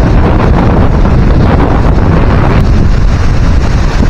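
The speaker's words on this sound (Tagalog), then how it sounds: "Grabe lakas ng hangin." Strong wind roars and buffets the microphone, a loud constant rumble with no voices.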